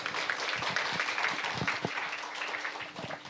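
A lecture audience in Korea applauds at the close of a professor's talk, giving a soft, fairly distant patter of clapping that carries on evenly and fades slightly at the end.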